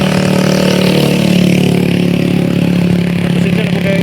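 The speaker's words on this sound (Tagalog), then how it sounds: "Maingay yung mga motor." Motorcycles on a roadside, a loud continuous engine drone and clatter close by, steady throughout with no pauses.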